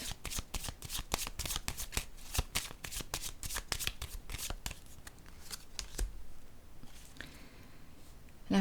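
Tarot cards are handled and a new card is laid down on a table: a rapid, rhythmic run of crisp papery card flicks, close and clear, tapering into softer rustling.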